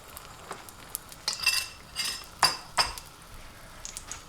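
A utensil scraping and clinking in a pan while egg mix for an Indian omelette is spread, with several sharp metallic taps and scrapes over faint background.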